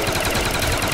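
Continuous rapid weapon fire from the Ray Gun in Call of Duty zombies on the Kino Der Toten map, a dense, loud burst of repeated shots lasting under a second with no talking.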